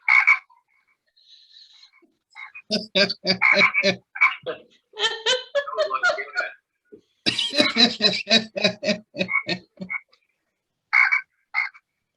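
A motion-activated frog figurine on a butler's tray croaks in loud, close bursts of rapid ribbits separated by short silences, with no talk over it.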